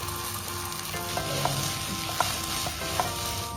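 Soaked sago pearls frying in ghee in a pan while being stirred: a steady, close sizzle with a few light clinks from the stirring, and no voices.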